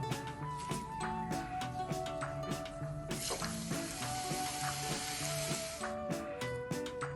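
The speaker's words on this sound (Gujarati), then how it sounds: "ચિપ્સ પણ આ રીતે તળાઈ ગઈ છે." Sweet potato chips fry in very hot oil turned down to medium heat, giving a steady sizzle that swells in the middle, with background music playing throughout.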